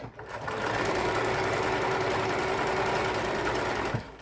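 A sewing machine whirs steadily at speed for several seconds, close and continuous, then stops.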